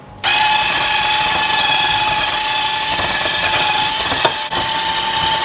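Electric hand mixer whirring steadily through lemon loaf batter with egg, vanilla and zest, a loud continuous motor drone with a high whine, lasting throughout with a brief bump near the end.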